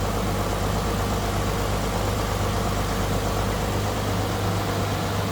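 A 1929 Chevrolet engine idles steadily and smoothly, running continuously with a low, even hum and no revving, fairly close and fairly loud.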